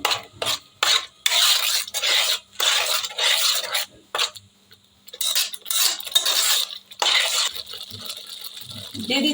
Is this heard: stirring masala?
yes